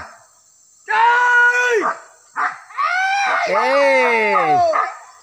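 Hunting dogs bark and yelp in loud, close, drawn-out bursts with howling, rising and falling cries during a communal village boar hunt in Talang, Solok, West Sumatra.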